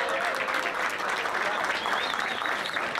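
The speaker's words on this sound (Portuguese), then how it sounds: "gostaria de uma salva de palmas para os dois finalistas" Dense, steady applause from a crowd at a DJ battle final, with cheering and whistles mixed in, loud and continuous throughout the short stretch.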